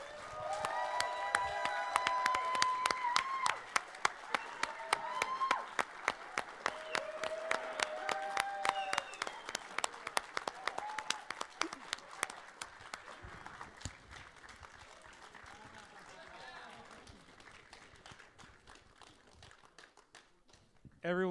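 A crowd at a pony convention's closing ceremonies applauds and cheers, a long, sustained spell of clapping with whoops and voices over it that gradually thins out toward the end.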